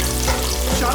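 Cinnamon sticks and garlic pods fry loudly in hot oil, a dense close sizzle with a quick stir scraping through it, brief and continuous.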